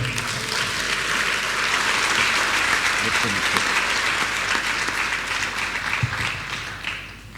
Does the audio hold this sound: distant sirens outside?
no